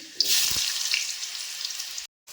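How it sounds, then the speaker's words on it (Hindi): Garlic and cumin seeds sizzle sharply in hot oil, a loud hiss right after they drop into the pan, fading slightly before cutting off. "तेल गरम हो गया है तो मैं लहसुन और जीरा डाल दी हूँ"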